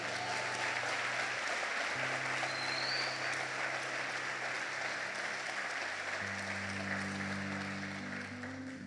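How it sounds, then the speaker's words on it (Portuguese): A church congregation at a Sunday evening service claps in a dense, sustained wave of applause while low instrumental chords hold underneath, fading slightly at the end. "Se eu fosse você, aplaudia Jesus."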